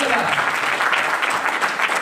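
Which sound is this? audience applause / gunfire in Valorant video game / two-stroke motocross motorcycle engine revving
audience applause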